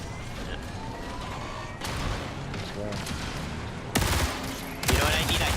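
Video game gunfire sounds as loud bursts and sustained volleys over continuous game noise, growing heavier toward the end, with a voice present in the mix.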